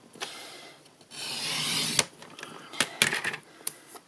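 Paper trimmer slicing a small piece of card during fine trimming, a soft rasping blade stroke followed by a few sharp clicks and taps, close and fairly quiet.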